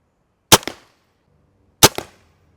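Two sharp snaps from a Hickory Creek mini vertical crossbow being shot through a chronograph, each a loud crack with a quick double echo, about a second and a half apart.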